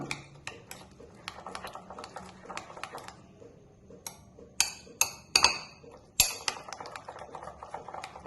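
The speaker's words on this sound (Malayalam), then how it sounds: "എന്നിട്ട് നന്നായിട്ട് ഇതൊന്ന് ഇളക്കി കൊടുക്കണം." Chopped tomato and onion stirred in a pan, a series of sharp spoon-on-metal clicks and knocks in an irregular rhythm, several louder clanks toward the middle, close and without talking.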